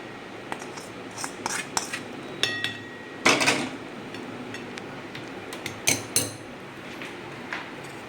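A metal spoon clinks and scrapes against a vessel while jaggery syrup is stirred into a mixture, giving irregular close taps and clinks with a louder scraping burst midway.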